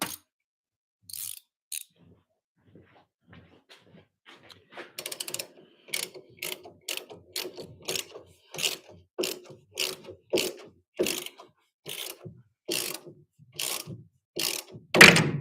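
A 17 mm wrench ratchets a bolt with a series of sharp metallic clicks, a few sparse ones at first and then a quicker, steady run of loud pawl ticks close to the microphone.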